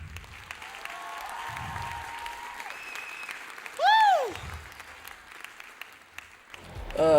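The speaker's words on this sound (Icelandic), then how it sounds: "Gefum þeim gott klapp." A crowd applauds at a high school song contest in Iceland: steady, moderate clapping that carries on throughout, with a brief whistle-like tone near the middle and a few low thumps.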